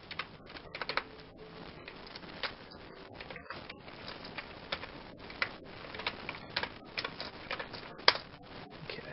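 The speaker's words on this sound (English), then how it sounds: "Just type in my email." Keys clatter steadily on a computer keyboard as an email address is typed in, a quick irregular patter of close, soft clicks with brief pauses and no talking.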